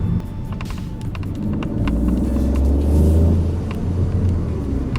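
A Peugeot 208 GT Line car pulls hard in sport mode on the streets of Bari, a steady low engine rumble that swells and builds toward the middle before easing slightly, heard from inside the cabin with no talk.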